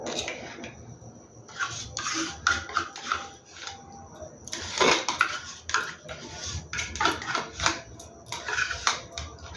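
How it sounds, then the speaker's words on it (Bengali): Metal spoon scraping and tapping as sour yogurt is scooped into a bowl, a run of close, uneven clinks and scrapes that comes in bursts over faint room noise. "টক দইটা আমি দিয়ে দিচ্ছি, চামচ দিয়ে তুলে দিচ্ছি"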